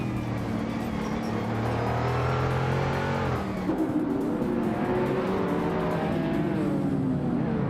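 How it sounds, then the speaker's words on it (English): Lamborghini Miura engine from a racing video game, a steady droning engine tone with shifting pitch as it revs and changes gear, continuous and fairly loud with no voices. "Lamborghini Miura"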